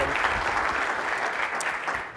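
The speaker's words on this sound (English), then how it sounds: "Round of applause for James." Audience applause at a CompTIA Communities & Councils Forum opening keynote, a steady dense clapping from a large crowd that fills the whole moment without a break.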